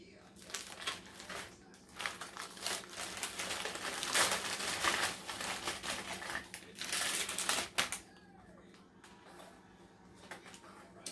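Saltine crackers, broken up and dropped into a bag, give a steady run of crinkling plastic and dry crackly crunches, loud and close, easing into quieter rustles near the end; a voice talks faintly in the background.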